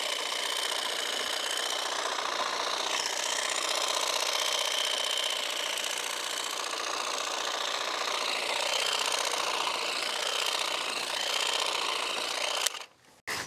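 A Gloria FineCut 18V cordless lawn edge trimmer cuts grass on a grassy hillock, giving a loud, steady buzzing rattle that runs almost without a break and then stops abruptly near the end.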